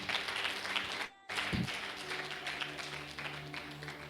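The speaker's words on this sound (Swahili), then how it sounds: "Mpe Yesu makofi ya ushindi" A church congregation at a healing service claps and applauds for Jesus. The sound is a dense, moderately loud wash of clapping that cuts out briefly, then resumes and continues steadily.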